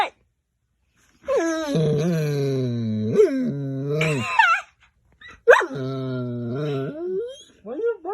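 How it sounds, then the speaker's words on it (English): A dog whines and howls in long, wavering moans broken by short barks, loud and close, with pauses of silence between the drawn-out cries. "Why are you barking? What's wrong?"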